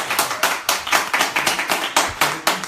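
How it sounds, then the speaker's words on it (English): A small home-meeting audience claps for a presenter: a run of sharp, evenly spaced handclaps from a few people nearby, loud and clear with no talk over them. "let's just give Ryan a round of applause for coming out"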